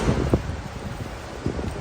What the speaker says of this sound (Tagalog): It's very mahangin.